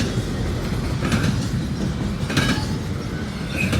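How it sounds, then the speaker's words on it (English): A CN intermodal priority freight train rolls past at Matsqui, British Columbia, a steady loud rumble of wheels on bumpy track with faint metallic clicks and squeals, no voices. "That's a priority train."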